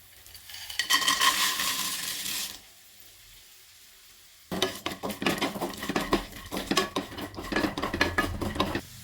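Peanuts stirred in a pan with curry leaves for a homemade snack mixture: a spoon scrapes and clatters against the pan, pauses briefly, then rattles in quick, busy strokes, close and fairly loud.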